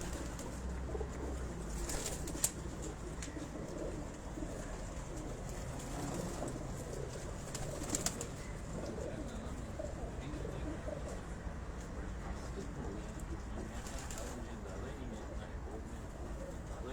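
Domestic pigeons kept by a fancier in Dhok Kala Khan, Rawalpindi, cooing softly and repeatedly in the background, with a few wing flutters, while people talk over them.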